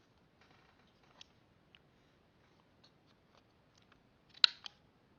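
A handheld craft punch cuts small hexagons from paper, giving sparse, quiet clicks and snips followed by one sharper, louder punch near the end, with no other sound.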